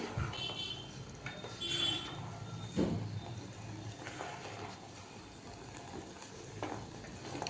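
Rava and potato snack cooking in refined oil over a low flame, a gentle continuous sizzle with occasional stirring scrapes and faint clinks.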